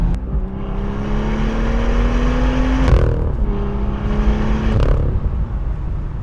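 A BMW M2 engine revs on a race track, rising in pitch through the gears with two sharp shift breaks, loud and close, with no talking.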